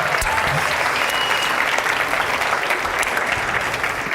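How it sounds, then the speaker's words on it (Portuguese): A church congregation applauds in a dense, steady burst of clapping that holds at an even level from start to finish, with no voices standing out above the crowd. "Pode aplaudir Jesus, gente, pela vida dele?"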